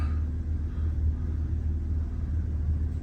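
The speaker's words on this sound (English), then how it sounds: "Excuse the fan noise in the background" A steady low rumbling hum of a fan runs continuously in the background, with no talking.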